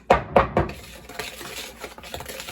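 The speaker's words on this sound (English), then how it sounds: "I'm going to mix it really good. I'm going to mix it a lot" Scone dry ingredients with baking powder being stirred in a bowl, three sharp close scrapes at the start followed by softer, continuing mixing sounds, with no one talking.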